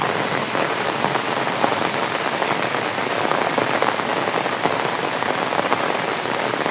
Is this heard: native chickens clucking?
no